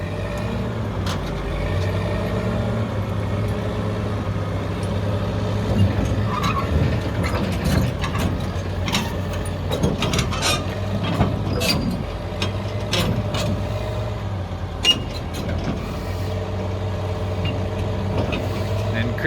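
Heavy equipment creeps off a lowbed trailer, a loader or excavator engine rumbling steadily with clanking, ratcheting metal and creaking mechanisms throughout, voices speaking over it.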